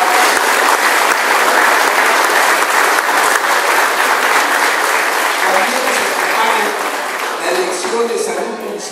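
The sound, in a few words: audience applauding municipal health staff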